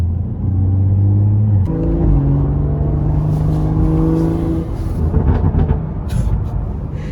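A BMW M140i engine, a tuned 500-horsepower B58, rumbles and revs up close, deep and loud, with crackling pops from the exhaust toward the end.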